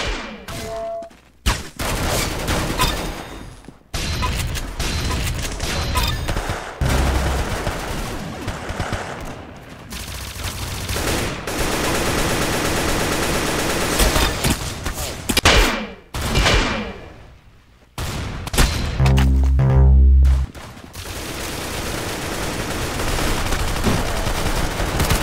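Rapid bursts of gunfire in the Roblox shooter Arsenal, loud and close, with dense automatic volleys broken by short pauses and a few heavy thumps.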